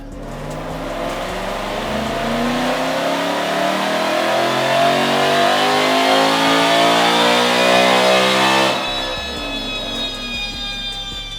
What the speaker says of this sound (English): Let's get it up on the dyno and see what it does.